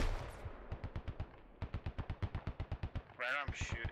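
Rapid automatic gunfire in the video game Squad, a steady burst of evenly spaced loud shots close by, with a brief pause and a crackling louder blast near the end.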